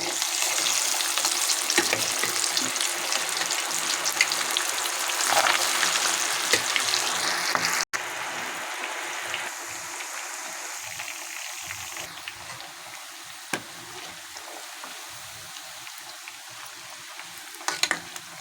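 Chicken pakoda fries in hot oil with a loud, continuous crackling sizzle, stirred now and then, and the bubbling eases slightly partway through but keeps going throughout.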